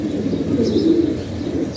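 A racing pigeon coos once, a low, soft, close call lasting under two seconds with no voices.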